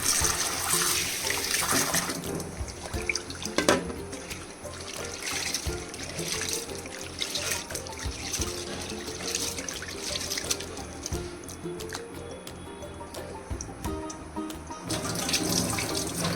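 Steady running tap water splashes into a sink for the whole stretch, with faint clinks and dribbles as something is rinsed underneath.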